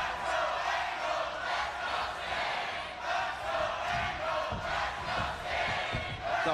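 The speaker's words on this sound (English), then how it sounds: "the crowd divided here in the impact zone for champion and challenger" A wrestling crowd at TNA Hardcore Justice in the Impact Zone chants loudly in a rhythmic, sustained roar, filling the arena through a main event title match between champion and challenger.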